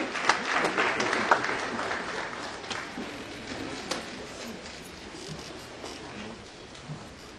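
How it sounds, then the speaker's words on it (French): A church congregation applauds during a worship service, the clapping loudest at first and then thinning out and fading over several seconds, with a few scattered claps at the end. "Applaudissons le Seigneur et asseyons-nous."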